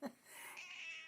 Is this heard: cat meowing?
yes